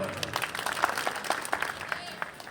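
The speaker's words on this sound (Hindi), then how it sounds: "भाई के लिए तालियां बजाओगे।" A crowd at a community meeting in Gohana applauds, with a dense patter of claps over a murmur of voices, steady and moderately loud for a couple of seconds.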